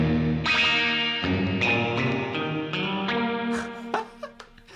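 Electric guitar notes ring out through a spring reverb effect, sounding warbly and boingy, with a few plucked strums trailing into echoing decay.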